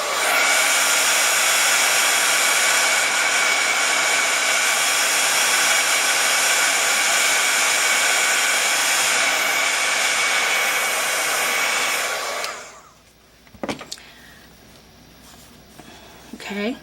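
A hair dryer blows steadily and loudly on distressed, aged card stock for about twelve seconds, then cuts off, leaving faint handling noises.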